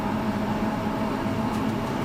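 A 1990s passenger train of Wittenberger N coaches, hauled by class 112 electric locomotive 112 024 in 2022, runs with a steady, loud rolling rumble and hum that holds evenly throughout, with no voices.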